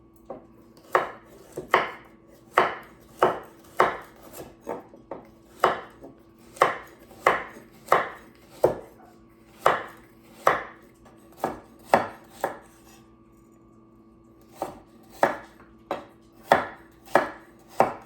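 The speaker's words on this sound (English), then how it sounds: "Let me just go ahead and cut these ends off of these." A knife chops through fennel ends on a cutting board in a steady rhythm of sharp, close thuds, over twenty strokes in loose bursts with a short pause midway, with no talking.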